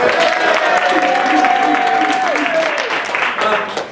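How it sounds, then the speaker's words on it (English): A school-board meeting audience breaks into sustained applause, a broad wash of many hands clapping at close range with a few cheers, loud and steady before thinning slightly toward the end. "Crystal apparently couldn't hear the applause, so can we try one more time?"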